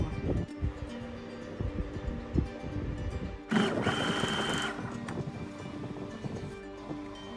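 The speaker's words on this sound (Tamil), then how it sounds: "கமீஸோட பாட்டம் ஹெம் இப்போ நான் தைக்கிறேன்." A sewing machine stitches the folded bottom hem of a kameez, a close whirring run of stitches rising for about a second in the middle, with quieter handling and fabric rustle before and after.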